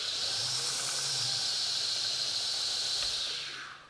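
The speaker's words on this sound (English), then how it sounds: "This is my speed for the sander." A sander runs at a set speed while sharpening an axe, giving a steady, fairly quiet hissing grind that fades out near the end.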